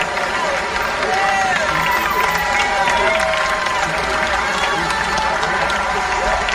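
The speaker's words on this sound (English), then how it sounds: "Well, the crowd's turning out en masse" Dense roadside crowd at a Tour de France stage in 2013, a steady wall of cheering and shouting that holds loud throughout, with a commentator's voice running over it.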